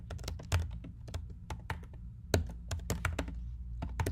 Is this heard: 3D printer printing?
no